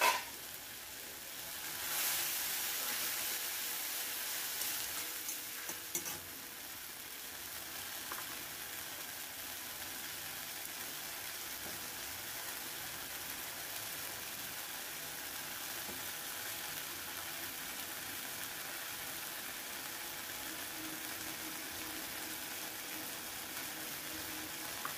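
A ground paste of ginger, green chilli and tomato hits hot oil with a loud, bright sizzle that settles into a steady, quieter frying hiss over many seconds, with no talking.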